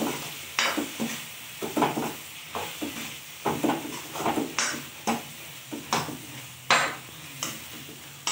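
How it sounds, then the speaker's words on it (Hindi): Potato, pea and soybean curry stirred in a pan after red chili powder is added, a spoon scraping in repeated strokes about once a second over a soft background sizzle, close and clear. "ये देखिए हमने लाल पाउडर मिर्च डाल दिया है फिर इसको हम अब चला लेंगे"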